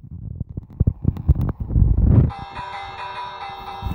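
A bell in Minecraft 1.14 is struck once after a few soft thuds and rustles, ringing out with a bright sustained metallic tone that lingers and slowly fades.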